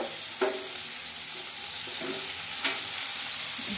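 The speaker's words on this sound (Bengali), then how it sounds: "এদিকে এখন কড়াই গরম হয়ে গেছে, এখন এখানে কালো জিরে ফোড়ন দিব" Black cumin seeds dropped into a hot wok, a steady hiss of sizzling oil with a few clinks and stirring scrapes, close and alone without talk.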